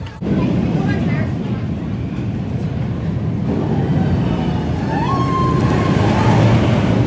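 The Mind Eraser SLC roller coaster at Six Flags America gives a loud, steady rumbling roar with constant rattling that swells slightly toward the end, with a faint voice in the mix.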